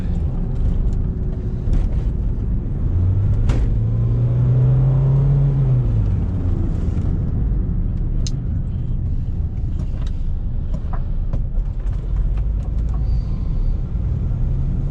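A red 4x4 Jeep driving at moderate speed: steady close engine rumble and road noise throughout, with a brief rising drone as it accelerates, no talk.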